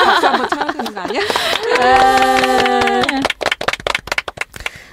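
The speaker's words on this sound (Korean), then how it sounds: "박수 한번 쳐야 되는 거 아니야?" A few people clap hands after speech in a podcast studio, a brief scattered burst that follows talk and laughter.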